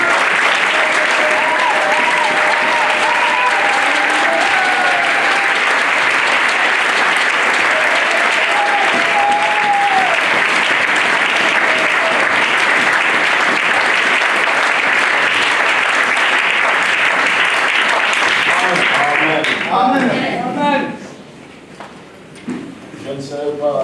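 A church congregation applauds together, loud and sustained for about twenty seconds, with cheering voices mixed in before the clapping breaks off near the end.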